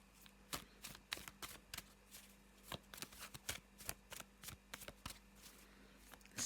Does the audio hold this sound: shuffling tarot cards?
yes